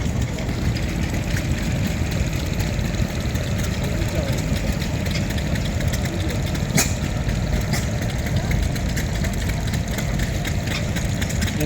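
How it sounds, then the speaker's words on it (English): An International Primus stationary engine runs at a vintage tractor show, a steady continuous chugging drone with show-ground background noise around it. "International Primus, nice engine."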